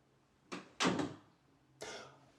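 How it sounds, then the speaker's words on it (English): A door is shut indoors with a few close, sharp thuds and bumps, one soft knock, then a heavier bang, and a last clunk after a pause, with no talk over them. "Mortimer, why don't you shut the door yonder"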